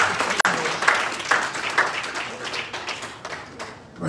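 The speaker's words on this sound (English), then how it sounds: "Will you clap your hands unto the Lord and thank the Lord for your grace?" A church congregation claps hands together in worship, a dense, steady wash of many palms with a few sharper individual claps standing out, filling the room at moderate loudness.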